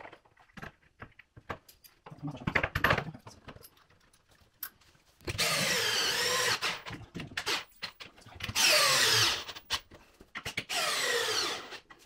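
Power drill bursts driving screws into wooden slats of a home-built climbing wall, three loud whirring runs of a few seconds each, separated by quieter handling and rubbing noises, close by with no talk.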